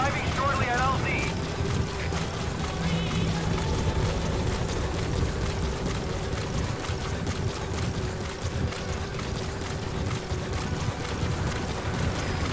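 Pequod, a game helicopter in Metal Gear Solid V, touching down at a landing zone: a steady, loud rotor and engine drone fills the whole stretch, with a radio voice speaking over it.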